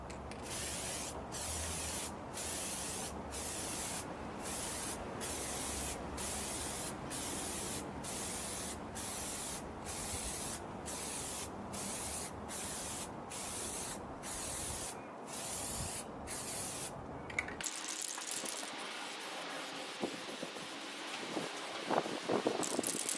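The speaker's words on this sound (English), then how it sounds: "When it comes to spray painting, always take your time, never rush." Spray can painting a set of bedside drawers, with a close, steady run of short hissing bursts about once a second for most of the stretch before they stop. No one speaks.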